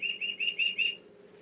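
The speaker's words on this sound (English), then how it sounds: "It's a bird clock." Bird clock chiming on the hour with recorded bird song, five quick repeated whistled chirps in an even rhythm over a low indoor hum, fairly quiet, then fading.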